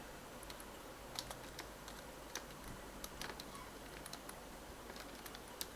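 Python code is tapped out on a computer keyboard in quick, irregular keystrokes, close and fairly quiet over a steady background hiss, with no talking.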